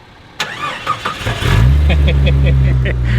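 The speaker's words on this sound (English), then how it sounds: "I have the honor of turning this truck on." A 1997 Jeep Cherokee Sport engine cranks briefly and catches, then settles into a loud, steady idle; a voice and some clicks come just before it starts.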